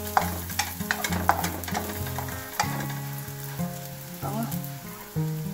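Garlic frying in a pan for chicken tinola, a steady close sizzle and crackle with scraping stirs, while music plays underneath.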